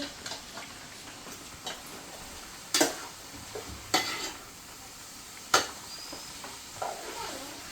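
A spoon stirs beef curry in a pot, giving a soft, quiet bubbling background broken by a few sharp clinks of metal against the pot every second or so.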